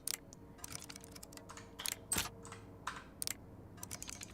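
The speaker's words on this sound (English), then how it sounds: "If you can hear me mashing my keyboards" Computer keyboard keys mashed in quick irregular bursts while lockpicking in the game Oblivion Remastered, sharp close clicks clustered in short flurries with brief pauses, fairly quiet with no voices.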